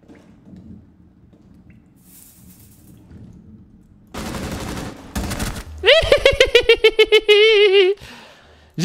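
Bursts of rapid automatic gunfire ring out in a Rainbow Six Siege match, two dense volleys followed by a run of sharp repeated shots layered with a rising electronic tone, loud and close after a quiet start.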